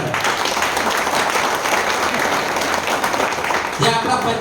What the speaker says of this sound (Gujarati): તાળી ઠોકો ડાયમંડો માટે.